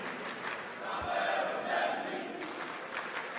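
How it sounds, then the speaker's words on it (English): A darts crowd at the Poland Darts Open chants a player's name in unison, a swelling, rhythmic roar of many voices heard from a distance in a large hall. "Now they're chanting Cameron Menzies' name"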